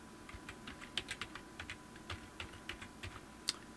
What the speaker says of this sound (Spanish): escribimos aquí la contraseña